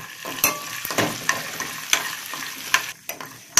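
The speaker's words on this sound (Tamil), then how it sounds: "அடுத்து வந்து முந்திரியை போடலாம் இதை போட்டு ஃப்ரை பண்ணலாம்" Cashews frying in a pan for sakkarai pongal, a steady soft sizzle broken by sharp scraping stirs and clinks of a spoon against the pan, close and moderately loud, no voices.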